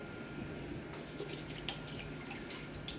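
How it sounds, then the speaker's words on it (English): Water trickles and drips softly as a chalk transfer is rinsed in a small water bath, quiet close splashes with a few sharper drips. "Just rinsing it in my little water bath where I have the other two transfers also."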